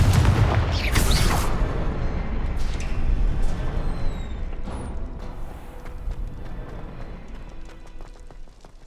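A Confringo blasting spell explodes in the video game Hogwarts Legacy, a loud booming burst at the start that rumbles and decays over several seconds, followed by scattered debris and quieter ambient sounds.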